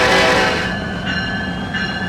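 A train horn in the Farming Simulator 22 video game, a loud sustained blast over rumbling rail noise that tails off, followed by fainter continuing horn tones and running train sounds.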